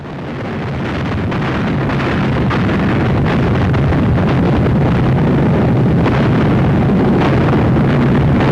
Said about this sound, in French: Les Katyusha tirent aussi, et les batteries illuminent la nuit.